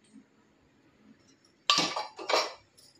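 A metal spoon scrapes and clinks against a bowl while curd is served for dahi jalebi at home, two short close bursts of clattering after a quiet start.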